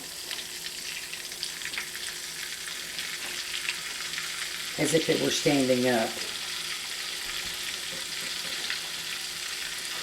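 Steady crackling sizzle of whole breaded catfish frying in hot oil runs throughout, with someone speaking briefly over it midway.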